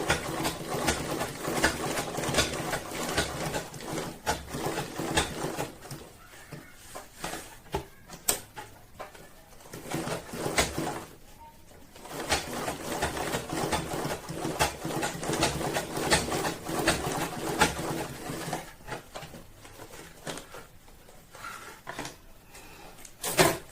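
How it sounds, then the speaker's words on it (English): Sewing machine stitching the lining of a cross-body sling bag, a steady whirring run that pauses briefly around the middle and then resumes, close and fairly loud with no talk. "So I've sewn the lining on it."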